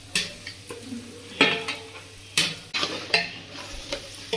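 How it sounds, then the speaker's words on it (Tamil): Chicken pieces stirred in a hot pot for homemade biryani, a steady sizzle beneath repeated scraping, clanking strokes of a spoon against the metal, close and fairly loud, with no talking. "இப்போ நாங்கள் சிக்கன் எடுத்து போட போகிறோம்."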